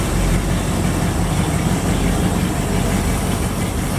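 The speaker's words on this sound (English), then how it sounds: "I'm going to put the engine in forward gear" A boat engine running steadily as it is shifted into forward gear, a loud, constant low mechanical drone with no change in rhythm and no voices.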